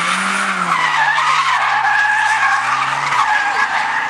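Drift car skidding through a long left turn at a 2010 drifting competition in Bivaröd, a loud continuous tire squeal over a droning engine, with a pitch dip near the end.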